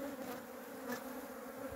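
Bees swarming and buzzing around a beekeeper opening a hive in hot weather, a dense, steady hum of many insects close by, with individual bees droning past.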